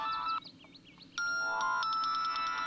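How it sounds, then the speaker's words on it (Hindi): A mobile phone ringtone plays a bright, repeating melodic chime, pauses briefly, then rings again with steady sustained tones, fairly close and alone. "तुम्हारे फोन की बेल बज रही है, फोन उठाओ"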